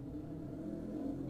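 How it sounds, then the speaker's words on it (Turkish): A car engine in the video game GTA San Andreas Multiplayer hums as a steady, low, fairly quiet rumble throughout, with no speech over it. "Aa motor sesiymiş."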